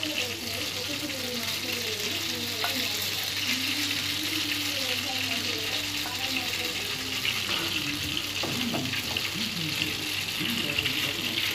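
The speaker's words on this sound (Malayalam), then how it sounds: "ഇങ്ങനെ ഓരോ ഭാഗത്തും ഒഴിച്ചു കൊടുത്ത് ഫ്രൈ ചെയ്തെടുക്കുക." Honeycomb cake batter of the old Kannur style fries in hot oil in a pan, giving a steady, low bubbling sizzle with occasional pops and a faint background hiss throughout.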